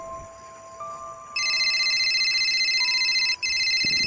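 A phone rings for an unanswered call, a steady electronic ringtone that starts abruptly and repeats continuously, close and clear, with no one talking.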